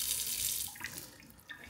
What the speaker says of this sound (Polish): Ciepła woda.